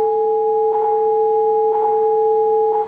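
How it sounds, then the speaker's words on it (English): A fire station alerting system sounds a steady, loud dual-pitched electronic tone, two pure notes held together without a break, with faint pulsing background sounds beneath. "It's the sound of a new alerting system that is helping firefighters respond to calls."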